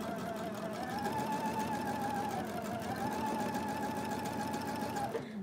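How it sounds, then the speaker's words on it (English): A sewing machine runs steadily as it stitches fabric right along the marked line while piecing a flying geese quilt block, a close, continuous mechanical whir that holds for about five seconds before stopping. "I am sewing right on the line."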